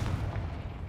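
A Confringo blasting spell in Hogwarts Legacy bursts as a loud, deep, rumbling boom that fills the whole short moment and is heard alone.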